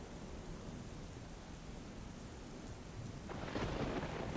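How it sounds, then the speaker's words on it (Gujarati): Heavy downpour in a village, a dense continuous roar of rain with a faint rumble, growing slightly louder toward the end, no voices. "વીરપુર ગામમાં ધોધમાર વરસાદ વરસ્યો."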